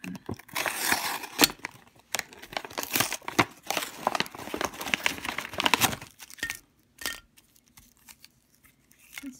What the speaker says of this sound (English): Let's open it up and take a look. I need to cut it. That's a little hard to open.